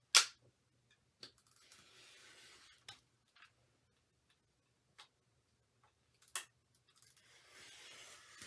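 Fabric for a quilt block being cut out: a series of separate, soft snipping and scraping sounds with quiet gaps between them, close by in a quiet room.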